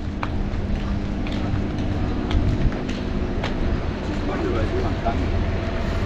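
A tram rumbles and clatters steadily at a station in Europe, with a few sharp clicks over a continuous low background and voices nearby.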